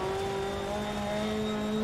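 An R5 rally car engine in Dirt Rally 2.0 on a USA stage drones at steady, lightly feathered throttle, a continuous even tone with no talk over it.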